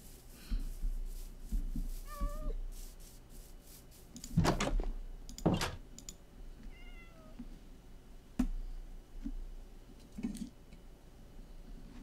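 A Minecraft cat gives several short rising meows spread across the stretch, fairly near, mixed with a few soft thuds and game noises, no voices.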